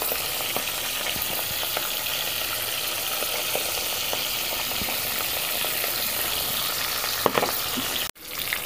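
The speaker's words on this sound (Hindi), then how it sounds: "देख खूब तेल गर्म हो तो कढ़ाई में डालें मछली" Fish fries vigorously in plenty of hot oil in a kadhai, a loud, dense, continuous sizzle with occasional pops, cut off abruptly near the end.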